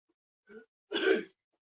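A soft short throat sound followed by one harsher cough, close and quiet, in an otherwise silent space.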